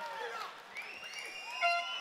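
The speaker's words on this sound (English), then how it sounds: "The crowd likes it." A crowd cheers at a professional MMA fight in a steady roar with rising whistles and high-pitched shouts layered over it, swelling briefly near the end, heard from a distance in an arena.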